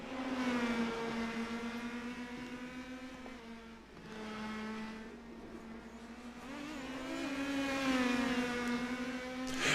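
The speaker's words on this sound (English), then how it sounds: "you can hear the RPMs pick up in the whine a little bit" A race car engine in the Indy Pro 2000 series on iRacing whines steadily, its pitch dipping then climbing as the revs rise on a corner exit, a continuous high tonal drone throughout.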